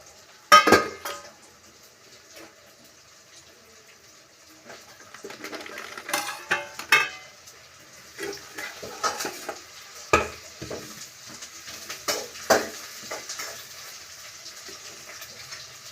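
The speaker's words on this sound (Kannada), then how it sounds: "ಹೀಗೆ ತರಕಾರಿ ಎಲ್ಲ ಹಾಕಿ ಫ್ರೈ ಮಾಡೋಣ." Vegetables fry in a pan with a soft, continuous sizzle while a spoon scrapes and clanks against the metal in irregular bursts, some sharp and close, others lighter.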